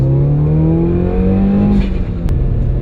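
A 400+ horsepower flex-fuel Subaru WRX pulls hard in second gear, its engine note climbing steadily in pitch as revs rise, loud and close from inside, with a brief click near the end.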